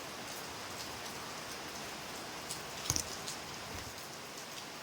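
Steady rain patters and hisses during a ride, an even wash of noise with a couple of brief louder knocks in the middle and no voices.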